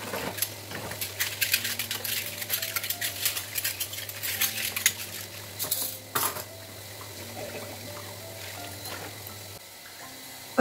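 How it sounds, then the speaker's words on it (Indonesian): Dishes are washed at a kitchen sink, plates and cutlery clinking and scraping continuously over a steady low hum, with splashes of water, busy and close at first, then quieter toward the end. "Dan sekarang saya cuci piring dulu"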